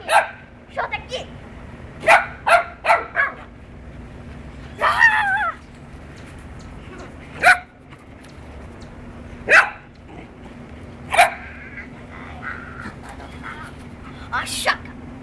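A dog barks in short repeated bursts, some single and some in quick pairs, close by and spaced irregularly, with people speaking between the barks.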